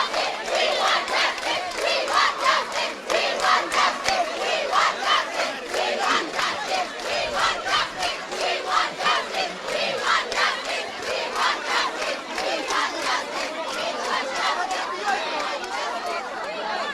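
A large crowd of student protesters chants slogans in rhythmic unison at a street demonstration, with steady repeated shouted phrases and background crowd noise throughout.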